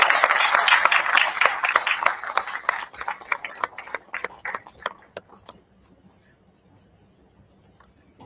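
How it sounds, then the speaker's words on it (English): Audience applause at a defence and space symposium, dense at the start, then breaking into sparse individual claps that die away into near silence. "Maybe please have a big round of applause."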